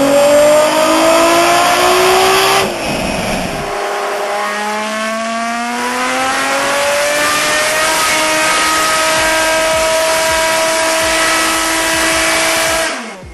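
A Ferrari race car engine screams loud and close on a dyno, climbing in pitch through repeated rising revs, with a brief lift around the first gear change before it pulls hard again to the end.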